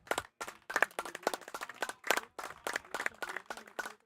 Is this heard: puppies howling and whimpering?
no